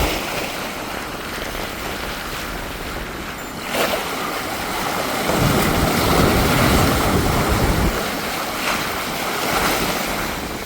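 Ocean waves wash and rush around a yacht sailing across the open Pacific toward Hawaii, with steady wind noise on the microphone and a surge of water swelling midway, loud and continuous, with no talking.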